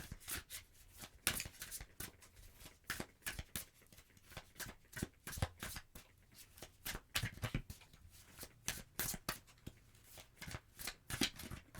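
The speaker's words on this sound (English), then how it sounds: "let's get a couple of cards from this deck" A deck of tarot cards being shuffled by hand, a steady run of crisp, close riffling snaps and flutters repeating throughout with no talking.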